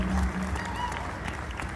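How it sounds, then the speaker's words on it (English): An audience at an afternoon gathering claps briefly, a moderate, somewhat muffled burst of applause with a low rumble underneath that fades slightly toward the end. "Please give them a round of applause."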